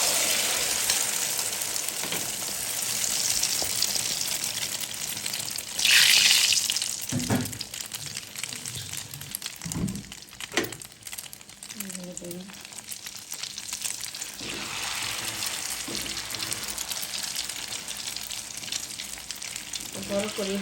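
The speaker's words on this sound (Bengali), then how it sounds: "ডিম ভাজার জন্য।" Egg frying in hot oil in a pan, alongside fried chilli, giving a continuous crackling sizzle with a brief louder spatter and occasional utensil knocks over about twenty seconds.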